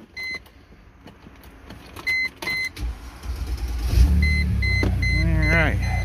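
Snow plow mounted on a Mercedes ML320 raising with a winch, with a few short electronic beeps and clicks, then a rising whining motor hum over the idling vehicle, loud and close.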